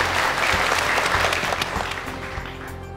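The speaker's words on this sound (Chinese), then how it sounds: "下面让我们掌声有请模特再次登台" An audience claps in a dense, sustained round as models walk back onto the stage at a fashion design competition, fading slightly toward the end.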